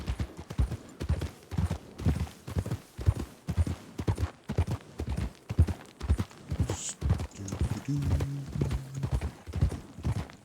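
Horse hooves clip-clop steadily in a Gold Rush-era roleplay game, an even trotting rhythm of distinct hoofbeats carrying on for several seconds, with a brief faint whinny near the end.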